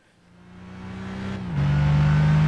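A Gran Turismo 5 race car engine revs up steadily, its pitch climbing and then jumping higher as it accelerates, loud and close.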